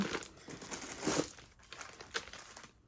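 Black crepe paper crinkles and rustles as it is handled up close, in irregular bursts of crackling with a louder crumple near the middle.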